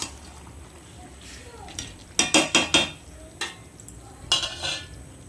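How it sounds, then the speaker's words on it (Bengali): A spoon stirs pointed gourd and fish head curry with garam masala in a metal pan, making a quick cluster of scraping clinks followed by a few more scattered scrapes over a faint sizzle. "গরম মশলা দিয়ে একটু নেড়ে চেড়ে"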